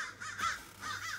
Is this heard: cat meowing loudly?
no